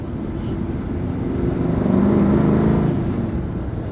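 A 1968 Chevy C10 pickup with a three-speed column shift drives along, its engine droning and rising steadily from inside the cab, loud and close with no talking.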